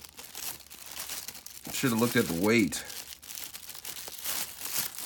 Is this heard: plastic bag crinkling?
yes